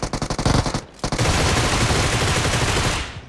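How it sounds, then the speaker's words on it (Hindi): Rapid automatic rifle fire from a Groza in the mobile battle royale game BGMI, loud bursts of evenly spaced shots, a brief pause, then a long sustained volley that fades out. "जब तक ये मेरे टीममेट लोग पे गोली चलाते हैं, मैं धर देता हूँ इनके पीछे से ग्रोजा"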